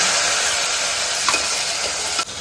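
Tomatoes sautéing in a pan for a kavalai fish curry, a loud, steady hiss and sizzle close up, with a couple of faint scrapes, ending in a brief dip.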